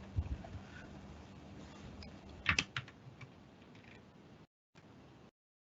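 Soft keystrokes tap on a computer keyboard in a quiet room, with a short burst of louder clicks in the middle, then the sound cuts out briefly before a final stretch of faint typing.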